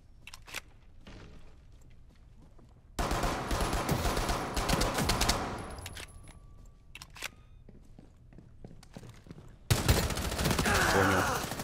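Bursts of video-game gunfire in Rainbow Six Mobile crackle in rapid automatic volleys, one long sustained stretch and another near the end, with footsteps and quieter handling sounds between them.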